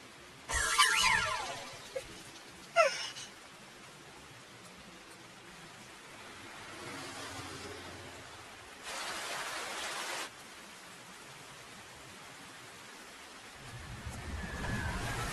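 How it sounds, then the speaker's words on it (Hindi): Steady rain hisses throughout, a broad wash of falling water with a few louder gusts and bursts rising and fading. "मुझे इस बारिश से बचना ही होगा।"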